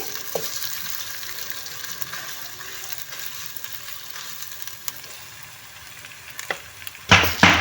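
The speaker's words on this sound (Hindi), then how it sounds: "ऑयल गर्म हो गया, अब इसमें खशकाश ऐड कर देंगे। अब इसको फ्राई करेंगे।" Poppy seeds (khashkhash) fry in hot oil in a pan, giving a soft, even sizzle with occasional light taps before a sudden louder burst of crackling at the end.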